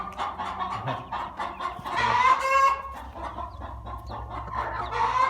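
Hens cluck busily nearby in a steady chatter, with one louder squawking call rising in the middle.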